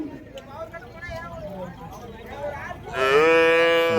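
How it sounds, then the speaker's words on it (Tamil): Heifer cattle lowing at a busy livestock market in Vaniyambadi, with a long, loud, drawn-out moo at the end and someone talking steadily beneath the sounds of the crowd. "நல்லா ஒரு மயில கிடாரிங்க."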